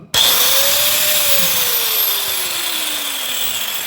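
An angle grinder fitted with a saw blade starts with a sudden jolt and then runs continuously at a loud, steady high whine that slowly drifts lower in pitch, with no talk.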